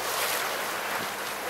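A tour boat on a Bruges canal churns along with a broad, steady wash of engine and water rush, close and loud, with wind buffeting the microphone and no voices.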